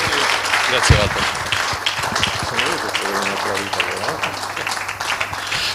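Audience applause in an Italian church hall, a broad wash of clapping that holds steady throughout while someone speaks over it.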